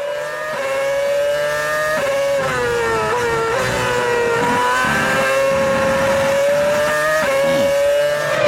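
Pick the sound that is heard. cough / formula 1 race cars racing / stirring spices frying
formula 1 race cars racing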